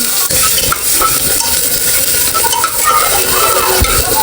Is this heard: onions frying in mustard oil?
yes